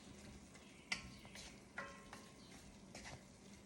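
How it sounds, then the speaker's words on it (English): Beef sizzling in a pot while being stirred and seasoned, with a faint steady fry and a few clinks and scrapes of the utensil, quiet and close. "stir that around and season that beef up"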